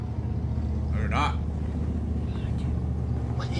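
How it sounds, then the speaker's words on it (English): A truck idles and rumbles outside a store at night, a steady low drone throughout with faint higher sounds drifting over it. "It's hard to hear anything with that truck outside."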